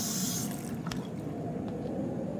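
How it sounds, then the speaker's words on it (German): Hot water tap running in a lodge in the Until Dawn video game, a steady close hiss of flowing water with a few faint clicks, no voices. "zeig mal, ob du in deiner schicken Lodge auch das Warmwasser anstellen kannst"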